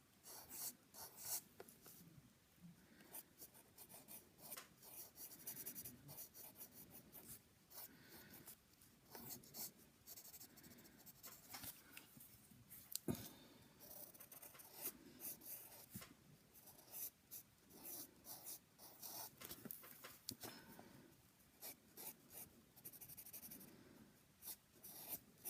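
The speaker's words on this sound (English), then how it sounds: "what I'm going to do is I'm going to draw it freehand a bit more" A pencil scratches across paper in freehand drawing, a soft, continuous rasp of short strokes and scribbles, very quiet and close, with no talking.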